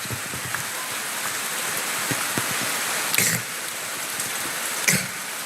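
Steady rain falls and patters on a surface, a continuous hiss with a few sharper drops and faint thumps, heard alone without voices.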